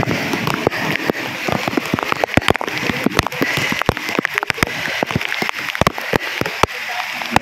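Heavy rain falls steadily outdoors, a dense hiss punctuated by frequent sharp drops and splats hitting nearby surfaces, with voices talking faintly beneath the downpour.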